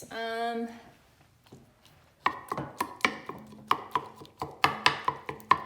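A spoon mashing chili ingredients for white chicken chili in a pot, a steady series of sharp knocking and scraping strokes at a brisk, slightly uneven rhythm, close and clear after a brief spoken phrase.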